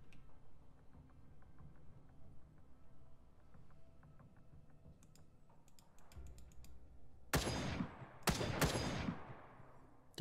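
Gunfire in the video game The Front, a few loud, sharp bursts of shots in close succession near the end, preceded by softer clicking and tapping.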